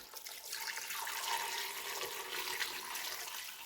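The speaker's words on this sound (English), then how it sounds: "We're going to cover that with some water" Water pours steadily over chicken in a cooking pot, a continuous close splashing and running stream that holds at an even level from start to finish with no talking.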